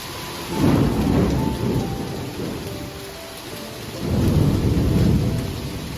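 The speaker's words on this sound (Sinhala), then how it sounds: "මේ විදිහට කඩටම වහින්න පටන් ගත්තා" A heavy evening downpour pours down steadily while deep thunder rolls through it, swelling twice and easing back in between, with no voices.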